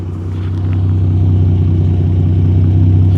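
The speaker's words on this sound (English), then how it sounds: "That's going to be the loudest setting, probably the deepest growl on this exhaust." A deep, loud exhaust on a 2026 Ford F-150 Raptor pickup, set to its Baja mode, rumbles and builds as the engine revs, holding a steady throaty growl close by.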